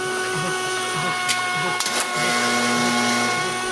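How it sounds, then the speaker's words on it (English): Selection accumulator mechanism of a jukebox running after a record is chosen, a steady mechanical motor whir with a rhythmic cyclic churn, brief clicks partway through, close and continuous. "Selection accumulator is what made the sound you heard before everything got started."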